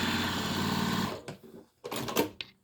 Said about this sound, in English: Sew the edge just a little bit